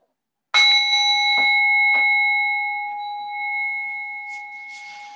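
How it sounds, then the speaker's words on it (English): A single bell or singing bowl is struck once during a restorative yoga class, giving a clear, bright ring that sustains and slowly fades over several seconds in a quiet room, with a few faint taps in the background. "The moment you'll hear the sound of the bell,"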